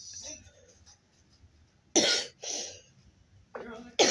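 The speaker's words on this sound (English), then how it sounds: "So hot, it's making me cough." Several sharp, close coughs come in quick bursts after a quiet moment, the last ones harsh and throaty.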